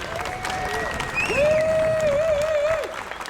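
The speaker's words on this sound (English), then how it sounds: "One more round of applause" Outdoor political rally in Austin, Texas, with a crowd applauding steadily throughout, a sustained tonal whistle or feedback-like tone rising over the clapping midway.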